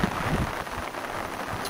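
Steady outdoor rain falls over a valley landscape with swales, a continuous broadband wash of drops that stays even and moderately loud throughout, with no voices.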